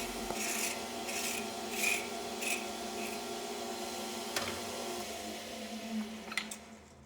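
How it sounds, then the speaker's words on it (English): A hand rasp scrapes over a forged Damascus steel chisel, blending its shapes in a steady series of rough, rasping strokes. The strokes are close and fairly loud, with a few sharper scrapes, and no one speaks. "I like using a rasp to blend the shapes and then following with a file and sandpaper."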